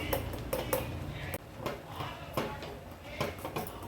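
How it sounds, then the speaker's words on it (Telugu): A pot lid is lifted off a pot of cooking ragi, giving several clinking metal taps and clatters over a few seconds, close by and fairly quiet, with faint kitchen noise. "చూడండి, తీస్తున్న మూత."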